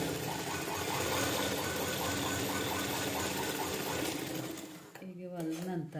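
Sewing machine stitching a round-type blouse lining, a steady rapid mechanical whir running continuously near and loud before stopping abruptly near the end, when a voice begins talking.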